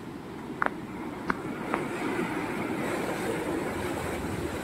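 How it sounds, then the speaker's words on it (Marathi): Floodwater from a swollen river in Vaibhavwadi, Konkan, rushes during heavy monsoon rain after a cloudburst: a steady, loud, broadband roar with a few faint clicks early on and no voices. "पाणी बघा भरपूर पाणी आलं आहे. पाऊस भरपूर आहे कोकणात पण."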